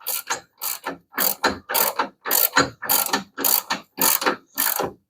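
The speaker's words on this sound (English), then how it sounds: "I gotta ream the engine side to 1/2 inch" A ratchet handle turns a reamer, opening the engine-side hole of a coil-over shock mount on a 1975 Plymouth to 1/2 inch. About ten loud, close, evenly paced ratcheting bursts sound with short pauses between them and no talking.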